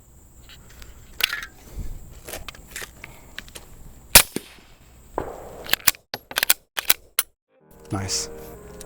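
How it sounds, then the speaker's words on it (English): Suppressed Glock pistol fitted with an MCarbo flat drop-in trigger, firing a series of sharp, muffled cracks at irregular intervals, mixed with brief talk and handling noises. "I just love shooting suppressed."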